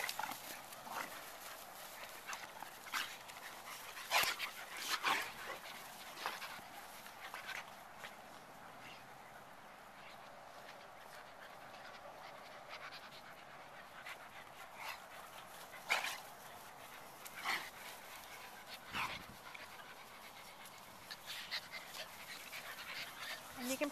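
Puppies scuffle and play with scattered yips, whimpers, panting and scrabbling thumps, fairly quiet, with people talking intermittently in the background.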